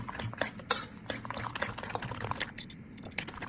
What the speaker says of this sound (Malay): Pukul telur. Kacau macam ni.